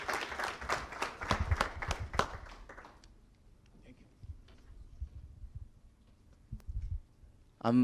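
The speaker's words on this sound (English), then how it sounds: "A round of applause, ladies and gentlemen" A few seconds of lively clapping from a media event audience, a run of distinct claps that fades quickly to near silence with faint scattered sounds, then a voice starts at the end.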